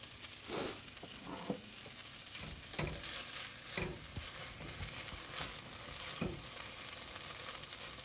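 Onions and mushrooms fry in a pan for a breakfast burrito, a steady, fairly quiet sizzle running throughout, punctuated by several soft scraping stirs at irregular intervals.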